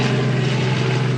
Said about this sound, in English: Sorry for the helicopter flying by.